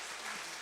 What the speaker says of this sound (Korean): 우리 환영의 박수 하겠습니다